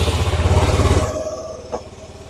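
A barn-find Kymco scooter engine, long left sitting and just dosed with carburetor cleaner, chugs in a loud pulsing idle with a throbbing rhythm that then settles and fades, with a brief clatter near the end.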